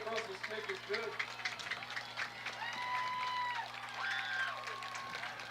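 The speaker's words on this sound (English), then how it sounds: "A big applause for Volk and with the Rebels." Crowd applause at a high school football game after a pick six: distant, steady clapping and cheering from the stands, with announcer-style voices and tonal sounds over a constant hum.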